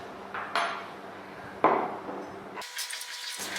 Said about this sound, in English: And now you just have to mix it.